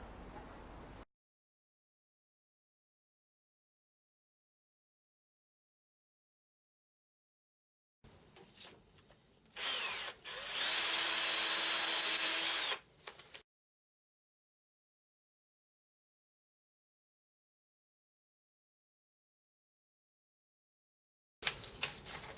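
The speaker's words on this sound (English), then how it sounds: "that was a 6mm drill. We're going to drill it out 5" A loud, steady power drill with a 6mm bit whirs for a few seconds amid long stretches of silence, with brief quieter mechanical noise before and after.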